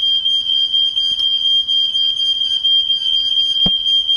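Smoke alarm mounted above a kitchen cooker, sounding a steady, piercing high-pitched tone that runs continuously and loud throughout, with a couple of brief knocks in the background.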